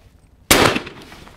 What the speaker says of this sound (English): I'm going to shoot the first target, the high, over about the white post.